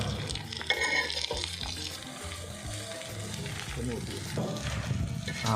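Onions sizzle and fry in a pan while being stirred for poori masala, a steady crackling hiss with scraping, and a voice speaks faintly underneath.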